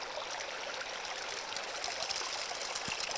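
Steady rush of water washing dirt through a gold sluice, a constant broadband trickling flow with no pauses, close and even throughout.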